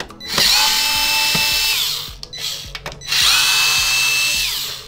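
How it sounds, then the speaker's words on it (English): A power drill whirs loudly up to speed and winds down twice while backing out screws from an Xbox One X console, with small clicks of the screws between the two close, sustained bursts. "now you're gonna wanna flip the console over and unscrew these two screws"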